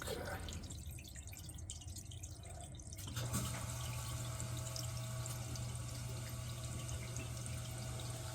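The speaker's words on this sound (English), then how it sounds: "All right, so we got the water running there." Water runs steadily into a main drain clogged with roots, a continuous splashing flow that picks up and grows louder partway through, with no talking over it.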